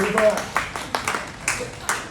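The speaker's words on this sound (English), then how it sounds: "So can we give that round of applause?" A few audience members at an artists' talk give a sparse round of applause for local artists Jamie Teo and Jamie Tan, scattered individual claps over about two seconds with a voice heard at the start.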